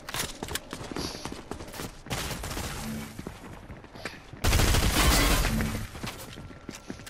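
Gunfire from the tactical shooter game Fortnite Ballistic, with sharp shots in bursts and a louder sustained volley near the end, heard close with no talk over it.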